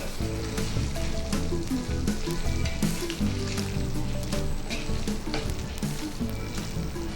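Chicken curry with curry leaves sizzles loudly in a pan while a spoon stirs it, giving continuous crackling frying with scraping and clinking strokes, close up and without talk.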